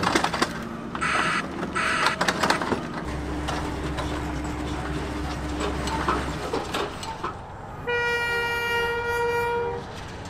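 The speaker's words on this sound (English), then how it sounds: "the ballast train nears Rylstone Station" A ballast train rumbles toward Rylstone Station on a heritage railway, with loud, steady low rumbling and clattering wheels, brief horn-like blasts early on, and a long, clear horn sounding near the end.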